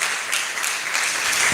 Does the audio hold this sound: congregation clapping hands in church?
yes